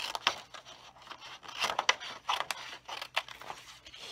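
Scissors cut through card for a handmade greeting card, making a quick run of close, crisp snips and rustles in a quiet room.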